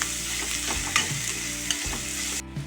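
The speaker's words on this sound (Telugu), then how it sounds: "అల్లం వెల్లుల్లి పేస్ట్ బాగా ఫ్రై చేసుకోవాలి." Ginger garlic paste frying in a pan for a catering-style brinjal and drumstick cashew curry, a loud close sizzle with a few scraping stirs, cutting off abruptly near the end, no voices.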